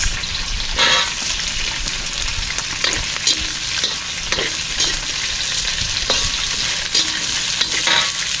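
Ginger and onion are stir-fried in a pan with a loud, continuous close-up sizzle. Repeated scraping stirs break through at a brisk, uneven rhythm.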